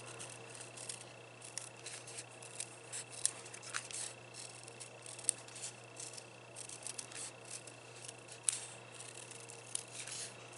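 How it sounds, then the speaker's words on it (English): Small paper snips trimming excess paper from a Halloween wand craft, giving faint, scattered little cuts and clicks over a quiet, steady room hum, fairly close by with no talking. "let me get my little paper snips here and trim the excess off"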